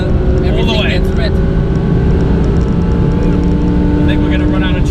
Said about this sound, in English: let's get some pace on the go and see that engine noise, what it's all about